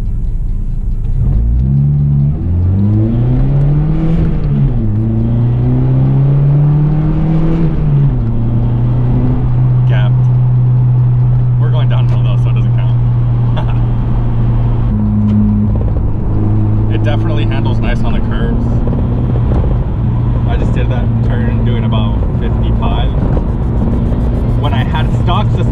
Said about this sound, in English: It does have the exhaust, so you kind of hear that in the cab.